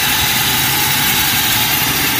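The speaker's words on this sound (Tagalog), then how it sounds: "Malawag yung kanyang pulley, saka ito yung bearing ng maingay." A loose tensioner pulley with a noisy bearing on a running Toyota Revo engine gives a loud, steady, close-up whirring grind with a broad hiss over the idle.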